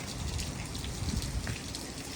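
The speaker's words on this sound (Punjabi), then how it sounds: "ਬਰਫ਼ ਖੁਰ ਕੇ ਪਾਣੀ ਡਿੱਗੀ ਜਾਂਦਾ ਐ ਵਗੀ ਜਾਂਦਾ" Melting snow in Nova Scotia drips and runs off in the sun like rain, a steady dense patter of water drops close by with no talk.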